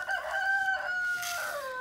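Backyard chickens give clear, close, high-pitched calls, a couple of drawn-out rooster-like cries in under two seconds, with no talking.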